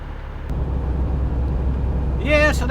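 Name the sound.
road traffic passing the truck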